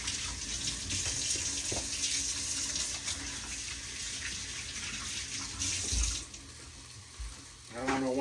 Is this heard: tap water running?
yes